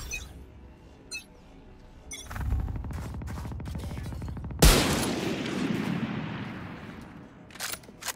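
Gunfire in the tactical shooter Valorant, with sharp single shots, then a sustained burst of rapid fire and a heavy blast followed by a long ringing decay, loud and close, with no talk.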